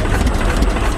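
An internal combustion engine runs steadily at close range, a loud, dense low rumble with an even idling throb and no voices.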